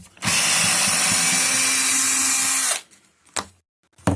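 A power drill backs screws out of a sofa armrest during reupholstery, whirring loudly and continuously for about two seconds before stopping, followed by a few faint clicks and handling knocks.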